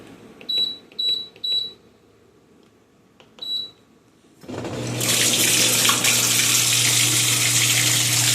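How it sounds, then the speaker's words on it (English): A home dishwasher gives several short electronic beeps, then after a pause water begins rushing out of it in a loud, steady, continuous gush that fills the rest of the clip. "So I have to empty the water."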